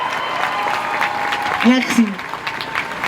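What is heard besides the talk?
audience applause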